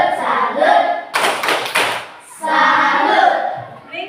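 A group of children in a Catholic religious lesson claps a rhythmic salute pattern together, with sharp clustered hand claps in the middle between stretches of a voice speaking.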